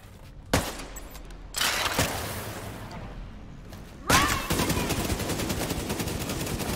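A minigun fires in The Division 2 during a multiplayer mission at the National Archive, heavy sustained bursts of rapid fire loud and close, the longest stream running to the end.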